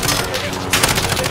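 Rapid bursts of automatic gunfire from the Call of Duty Modern Warfare video game, loud and dense, crackling in quick succession with faint voices underneath.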